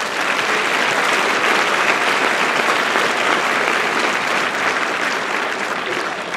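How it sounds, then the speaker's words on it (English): An audience applauds at a gala treble choir concert in a performing arts center, with sustained, dense clapping from a large crowd that stays loud throughout and tapers slightly at the end. "A big round of applause."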